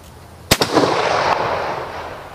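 A single sharp rifle shot from a 6.5 Carcano, fired outdoors, cracks loudly and then rolls away in a long, fading echo.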